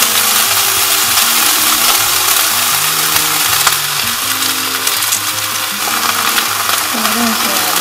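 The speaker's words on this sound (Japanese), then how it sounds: "そのまま卵とほうれん草をさっと炒めたら完成で" Egg and spinach stir-fried in a pan inside a small camper van, making a loud, steady sizzle with scraping and stirring throughout, and voices talking faintly over it now and then.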